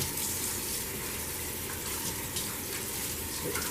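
Cold tap water runs steadily over raw ribs being rinsed in a sink, a continuous near hiss and splash with no pauses and no talking.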